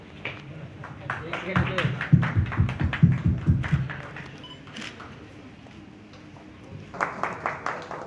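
Audience applause at a ceremony attended by officials in Deoghar: a burst of hand claps swells and fades over a few seconds, then a second smaller round, with someone speaking over it.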